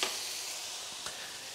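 Burger patties browning in a pan give a faint, even sizzle throughout, broken by one small clink or stir of a utensil near the middle.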